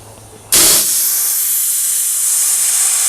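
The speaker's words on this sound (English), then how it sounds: "what you just heard is the air coming out of the machine" Compressed air vents from a Norfield 8900 deep lock mortiser when its shutoff lockout valve closes, a sudden loud burst that settles into a steady, close, broadband hiss.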